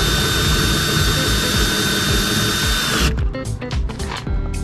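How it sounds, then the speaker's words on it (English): A small Ryobi cordless drill whirs loudly and steadily while lowering caravan stabilizers, then drops into shorter, uneven bursts as the load changes, up close with no talk. "Little Ryobi drill, and it makes it a lot easier to lower the stabilizers."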